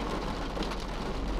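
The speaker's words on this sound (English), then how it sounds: "It's raining now," Steady rain patters down in a continuous hiss, close and even, with no voices.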